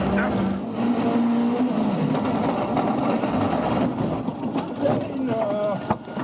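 A turbocharged rally car races at WRC Rally Croatia 2024, its engine droning and revving steadily throughout with a whistling turbo note, while people talk over it.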